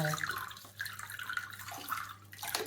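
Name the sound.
running water rinsing bean sprouts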